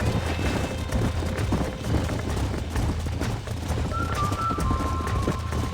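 A wild horse gallops in Red Dead Redemption, with a steady run of hoof clip-clop over a dense, loud rumbling backdrop for about six seconds and a faint whinny near the end.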